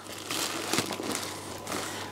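Plastic bag packaging crinkles and crackles as it is unwrapped, a close, continuous rustle with a few sharper crunches over about two seconds.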